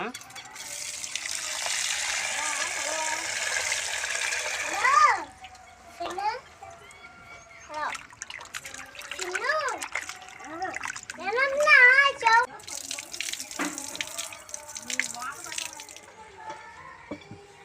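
Tap water gushes and splashes into a sink while small pieces of beef are rinsed, a steady rush at first, then intermittent splashing and trickling as a voice talks over it.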